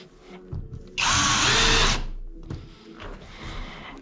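A power drill drives a screw into an OSB subfloor board, one loud whirring burst of about a second, with quieter handling and tool noise before and after.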